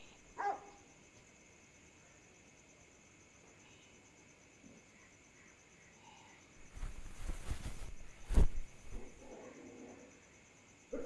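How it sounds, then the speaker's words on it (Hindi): Village dogs in winter barking in a few scattered bursts against quiet night ambience with steady insect chirring, one loud close bark standing out near the end. "तुम्हारे यहाँ के कुत्ते भी ना, मतलब जाड़े में आराम नहीं कर सकते, काटने को दौड़ते रहते हैं हर समय।"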